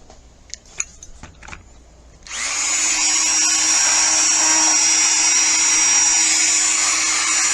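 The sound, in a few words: cutting with a cutoff wheel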